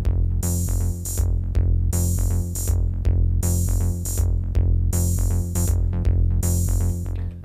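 Roland JD-Xi drum sequence with delay, bass drum and cymbal hits echoing into a dense, repeating groove layered over a sustained low synth bed, loud and continuous with no talking.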